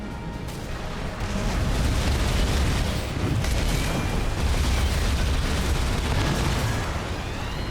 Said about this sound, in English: the explosive thrower got me